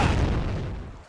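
A leg-mounted cannon in the Dororo video game fires a shell at an unbreakable rock, giving one short, loud, close boom whose deep rumble dies away within about a second.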